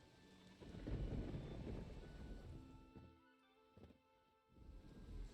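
Steady rain with rumbling thunder in the video game The Witcher 3, a low continuous wash that swells and fades, with a couple of sharper cracks near the end and no voices.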